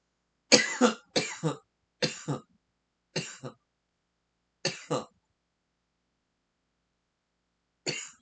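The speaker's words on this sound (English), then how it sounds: "Excuse my cough." Six bursts of coughing, mostly in quick pairs, spread across the clip with pauses between them. The last cough comes alone after a long silence.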